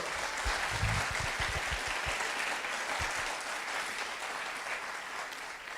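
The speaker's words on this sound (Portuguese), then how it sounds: "Dá um aplauso forte ao Senhor." A church congregation applauds strongly, a broad steady roar of clapping with a few low thumps early on, fading slightly toward the end.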